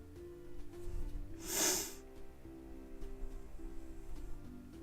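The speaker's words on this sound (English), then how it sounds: "Sorry for all the sniffing. I'm eternally stuffed up." A single loud, wet sniff through a congested, stuffed-up nose, close to the mic, rising and fading within about half a second against a faint steady background hum.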